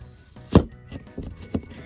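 A knife chops through potato slices to cut them into French fries, giving a few sharp, close thuds on a cutting board at uneven intervals, with no talking.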